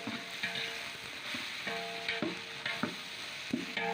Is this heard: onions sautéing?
yes